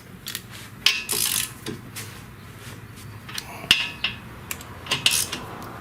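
Sharp, irregular metallic clicks and clinks from work on the front brake hardware of a 2016 Kia Sedona, scattered across the clip at close range in a quiet space with no talk.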